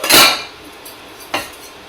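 A utensil scrapes and clanks against a pan while garlic is stirred, two distinct metallic strikes, the first louder, separated by a quiet pause.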